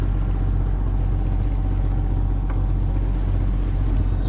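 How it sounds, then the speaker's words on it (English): A sailboat motors under engine power in calm morning water off Indonesia, its steady low engine drone and hull hum running unbroken and fairly loud, with faint wind and water wash. "Just motoring around to the next anchorage"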